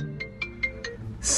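A phone rings with an incoming call, a quick series of evenly spaced electronic beeps, close and clear, ending in a sudden burst of noise.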